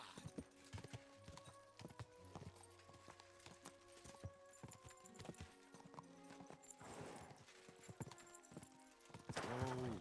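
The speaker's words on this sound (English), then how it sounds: "looks like a bloody expensive horse." Horse hooves clop in a steady walking rhythm in the medieval game Kingdom Come Deliverance 2, close and distinct, with a loud whinny breaking out near the end.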